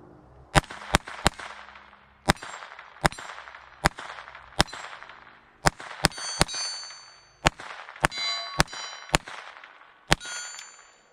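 A Taurus TX22 .22 pistol fires Federal Auto Match rounds at an irregular pace, about eighteen sharp, loud, close cracks, each with a ringing metallic tail.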